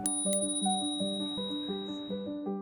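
A bicycle bell rings repeatedly in quick succession, bright metallic dings close up, rising and falling in a rapid rhythmic pattern.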